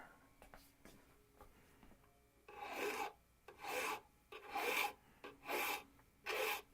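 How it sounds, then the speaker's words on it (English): Cedar wood sanded by hand, about five firm rasping strokes in a steady rhythm, close and loud after a quieter stretch of faint scraping and small knocks. "They just want to see that monotonous sanding."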